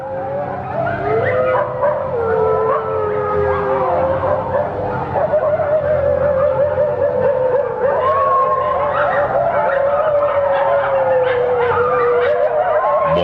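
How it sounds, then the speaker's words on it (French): Agitated dogs howl and bark continuously, several wavering howls overlapping with yips and whimpers, loud and close, with voices faintly mixed underneath. "les chiens sont vraiment affolés"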